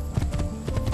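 A ridden horse in Assassin's Creed 2 clip-clops along in a quick, even rhythm of hoofbeats, close and fairly loud, without talk.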